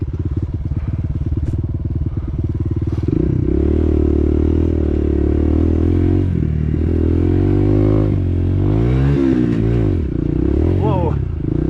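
A dirt bike engine labours through a sand pit, running loud and close throughout with rising revs and shifting pitch as it churns along, gear changes audible and clattering scrapes mixed in.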